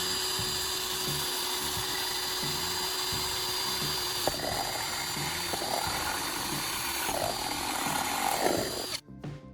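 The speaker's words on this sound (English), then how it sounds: "when drilling a hole in the bottom of the dish" A power drill bores a hole in the bottom of a metal satellite dish, a close, steady whine with several rising and falling pitch sweeps as the bit bites, then stops abruptly.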